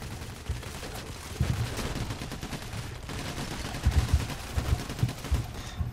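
Gunfire in Payday: The Heist, a heist shooter game, pops in rapid bursts and scattered shots at moderate volume, thickening into dense volleys toward the end.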